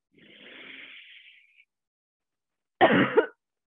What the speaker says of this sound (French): La prochaine, on va vraiment tousser.